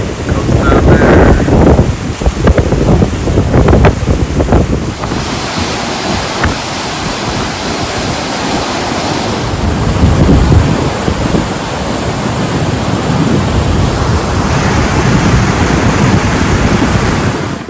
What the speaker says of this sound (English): There's another waterfall over there.